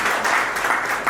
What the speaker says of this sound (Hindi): बहुत जोरदार तालियां उनके